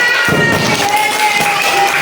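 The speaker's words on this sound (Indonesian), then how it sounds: "Boleh tepuk tangan semuanya." A classroom of schoolchildren claps together with scattered shouts and chatter, a dense, lively burst that fills the room close by and holds steady throughout.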